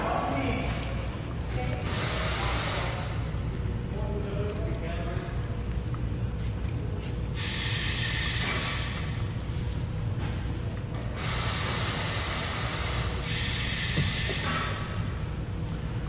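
A pump drains contaminated gasoline from a 2021 Nissan Rogue with a steady hissing, rushing drone. The sound swells in louder bursts and stays close and continuous throughout.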